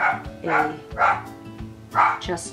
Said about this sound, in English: That's Barry in the background barking at somebody outside.